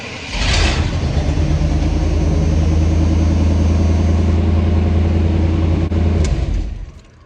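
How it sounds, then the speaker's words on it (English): A small block Chevy V8 in a truck runs with no exhaust fitted, a loud, open rumbling idle with a steady low throb that lasts several seconds before it is cut off and fades out. "it sounds like a small block Chevy with no exhaust on it"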